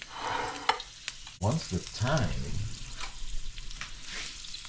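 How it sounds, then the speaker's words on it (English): Thyme sprigs dropped into hot oil in a pan for canned corned beef crackle and sizzle up close, a sharp burst of frying after a quieter start, with a few spoken words at the start. "I love to drop the thyme in there first, so that's gonna infuse the oil and get it going."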